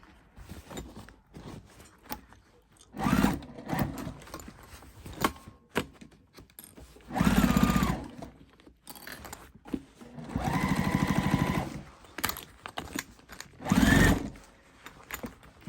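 A sewing machine stitches a vinyl tote bag in several separate bursts, each a few seconds long with quiet pauses between, the motor whirring up and stopping close by.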